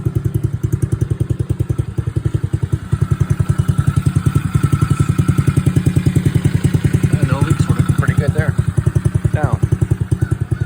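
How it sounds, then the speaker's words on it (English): A Coolster 110cc Chinese ATV engine idles with a fast, even thumping putter and mechanical clatter, close and loud, while someone talks over it. "one good idea is to start up the machine and just make sure you don't have any"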